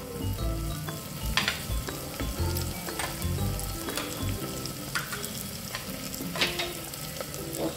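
Spices with salt, turmeric, coriander powder and red chili powder sizzle in a hot pan while being stirred, steady crackling frying with scraping stir strokes, close, no voices.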